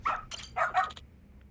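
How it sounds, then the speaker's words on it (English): A dog in the video game Lost Judgment gives a few short, sharp barks in quick succession, close and clear, then falls quiet. "Good dog. Very good dog."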